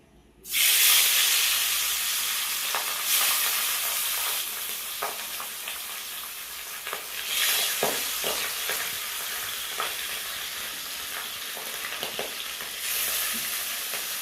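Small pabda fish frying in hot oil in a wok, a strong close sizzle bursting up as the fish go in, then a sustained hiss with occasional stirring clicks and flare-ups.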